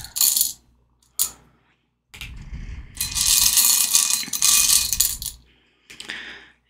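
Small hard tokens clatter and rattle in bursts, with a longer stretch of continuous jumbled clicking as they are mixed together.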